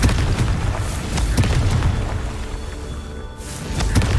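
A Confringo blasting spell explodes in the Hogwarts Legacy video game, a loud booming blast with rumbling crashes that fades briefly before another surge of heavy impact noise.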